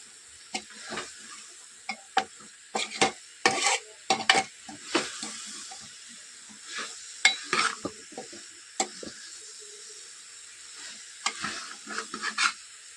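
A utensil scrapes and knocks repeatedly in a pan as ghugni pea curry with flour is stirred, producing irregular clattering strokes over a faint sizzle.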